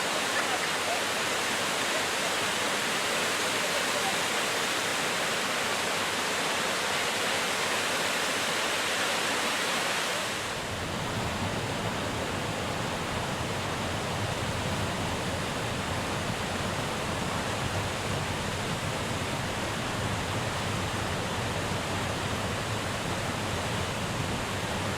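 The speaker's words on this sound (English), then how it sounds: "listening to the soothing sound of the rushing water" Reedy River Falls in Greenville, South Carolina, rushes loudly and continuously as a dense, steady roar of falling water. The tone shifts slightly partway through but never pauses.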